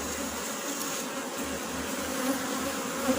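Honey bees buzz around an open hive during beekeeping in Jamaica, with a steady, close hum from many insects that runs continuously and stays moderately loud, with no talking.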